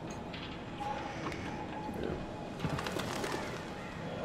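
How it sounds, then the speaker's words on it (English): Crows in the horror game Until Dawn: soft bird calls and flutters heard faintly over a steady ambient game background, with scattered brief sounds and no talk. "There's the birds. Here's the birds."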